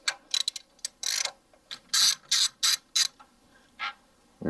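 A hand ratchet clicks in quick, uneven bursts as a 10 mm bolt is loosened from the air filter box of a 2007 Toyota Highlander Hybrid, heard up close in a quiet setting.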